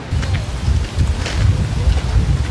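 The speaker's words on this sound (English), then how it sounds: "You see a little bit windy right now" Gusty, dusty wind outdoors by a protected swan area buffets the microphone, a heavy low rumble that rises and falls in waves, with faint rustling on top.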